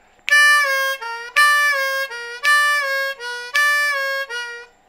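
On a C harmonica, a blues triplet moves from the four draw half-step bend down to the three draw half-step bend, repeated four times in close, bright, evenly spaced phrases with no voice.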